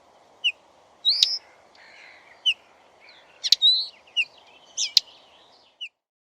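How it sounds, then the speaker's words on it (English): A linnet sings a scattered series of short, bright twittering notes and trills, each one clear and close, separated by brief pauses over a faint background hiss. "Linnet."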